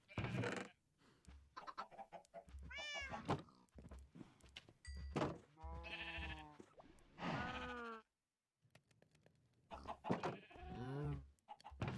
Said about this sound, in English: Gonna breed the sheep too.